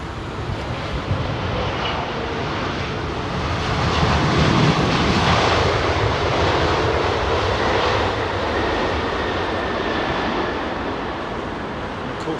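A Boeing 777-300ER jet departing London Heathrow's runway 27R roars steadily for the whole stretch, swelling slightly in the middle, with some wind buffeting and no talk.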